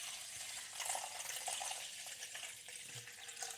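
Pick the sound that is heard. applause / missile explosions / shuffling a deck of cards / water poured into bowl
water poured into bowl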